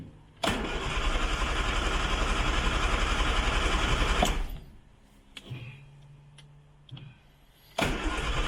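A Riley Kestrel barn-find car with a suspected faulty ignition module cranks and fires, its engine running loud and rough for about four seconds before dying, followed by weaker cranking attempts and a final restart burst.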